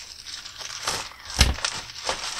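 A mailed parcel is cut open up close: loud crinkling and tearing of the packaging, with one sharp crunch in the middle and rustling around it, and no speech.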